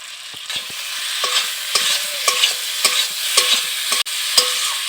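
Spices with half a spoon of Kashmiri chilli sizzle and fry in a pan, stirred with repeated scraping strokes at a steady rhythm, close and fairly loud, with no talking.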